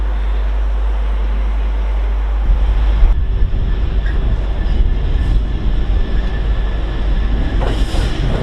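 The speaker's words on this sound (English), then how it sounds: "we've got another freight here with 66745, working from Middlesbrough to Felixstowe" A freight train hauled by locomotive 66745, running Middlesbrough to Felixstowe on the East Coast Main Line, rumbles past loud and close with a continuous heavy low roar and clatter of wagons, and no talking.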